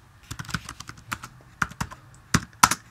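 Keys clatter on a computer keyboard while C++ code is entered in Xcode, a quick run of close, light clicks with brief pauses and a few louder strokes near the end.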